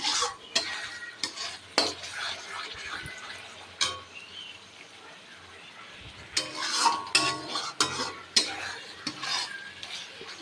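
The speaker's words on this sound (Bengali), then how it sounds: "আর একটু কষবে, আর একটু কষানো হবে।" Paneer masala being sautéed in a pan, a close, steady sizzle with frequent scraping and clinking of a spatula against metal, in uneven bursts of stirring.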